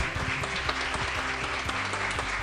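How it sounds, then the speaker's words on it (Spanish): An audience applauds to welcome a speaker to the stage at an INCADE program event, a steady, dense wash of clapping that carries on evenly throughout. "Fuerte los aplausos para recibir a Milagros Haddad"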